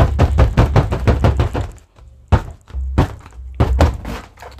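Printed rubber balloons being tapped by hand give a rapid string of close, hollow thunks, in quick bursts separated by short pauses.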